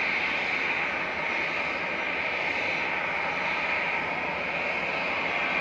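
An easyJet Airbus A320 Classic jet airliner idles at Manchester Airport before departure, giving off a steady, continuous engine roar and hiss at moderate distance with no talking.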